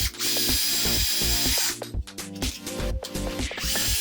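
A power drill drives self-tapping screws into a handmade wooden wall-mounted clothes hanger, with loud bursts of whirring motor broken by short pauses and clicks over roughly four seconds.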